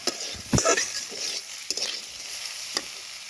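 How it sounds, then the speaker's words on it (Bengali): Boiled handmade pasta and boiled vegetables being stirred in a frying pan, with a steady soft sizzle and a few scraping spatula strokes against the pan, close and moderately loud with no talking. "এগুলোকে দিয়ে ভালো করে এখন আমি নাড়াচাড়া করে নেব"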